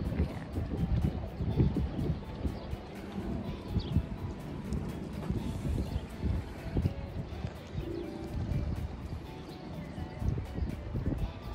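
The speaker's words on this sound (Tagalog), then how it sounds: "Ayan, ang lamig, ang lakas ng hangin." Strong, cold seaside wind at Bahrain Bay buffets the microphone in a constant low rumble with irregular gusts, steady at moderate loudness throughout.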